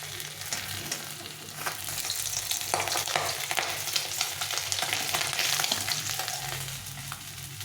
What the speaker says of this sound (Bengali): দুপাশে সুন্দরভাবে ভাজা হয়ে গেছে ফেটে ফেটে যাচ্ছে